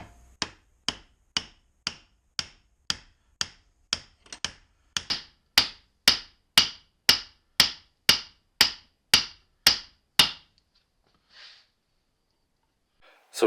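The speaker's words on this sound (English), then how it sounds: "I'm going to use a brass hammer." A brass hammer taps a pinion differential bearing into place with about twenty sharp metallic strikes in an even rhythm, close up and growing louder, then stopping with a short quiet pause near the end.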